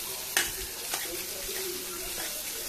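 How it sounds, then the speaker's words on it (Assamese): Pieces of fish sizzle steadily in hot oil during home cooking of a sour kordoi-fruit curry, a continuous close frying hiss with a couple of brief clinks near the start. "তাতে মাছকণো ভাজিছোঁ"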